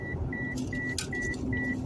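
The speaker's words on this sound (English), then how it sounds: "You know how y'all put stuff in your passenger seat and the alarm wants to go off?" A car's passenger seat alarm chimes in a regular pulsing pattern, five evenly spaced tones over a low cabin rumble, with a brief rustle or clunk midway.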